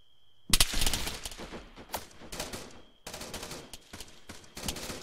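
Airsoft guns crackle in a shootout, rapid bursts and volleys of pops coming close and loud in uneven clusters, broken by brief pauses, with no talking.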